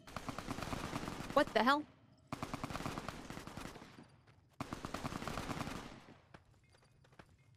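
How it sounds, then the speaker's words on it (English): Rapid bursts of gunfire from the Fallout: New Vegas video game, loud and close in clustered volleys separated by brief pauses, with a startled voice speaking over them. "Who's shooting?"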